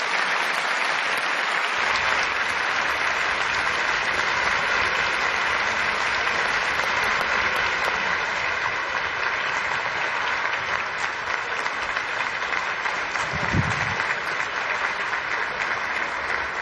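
Sustained, dense applause from a large audience greeting the president onto the stage at a Quran recitation competition award ceremony, steady and loud throughout with no voices standing out.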